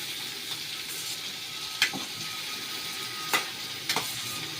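Chicken and rice frying in a pan for masala chicken rice give a steady low sizzle, with a few sharp scrape-like clicks from stirring standing out close by.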